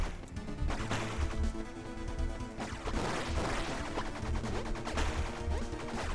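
Dual guns firing during slowed-time gameplay in the video game Bleed, dense rapid shots and crashing impacts layered over game music, loud and continuous with no talk.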